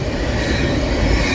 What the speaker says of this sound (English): This is a double-stack intermodal train going from Chicago, Illinois to Portsmouth, Virginia.